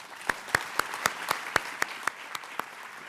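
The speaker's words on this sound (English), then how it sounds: "Let's give them a round of applause" Sparse applause for panelists at a Cleveland discussion forum, with about a dozen distinct, evenly spaced claps standing out over a soft background of lighter clapping.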